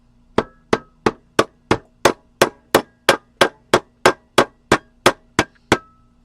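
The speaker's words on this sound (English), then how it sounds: "we are going to go ahead and take our mallet and we're going to pound this" Mallet pounding a silver spoon clamped in a vise, about sixteen sharp, evenly spaced metallic strikes in a steady rhythm, close and loud with brief ringing after each blow.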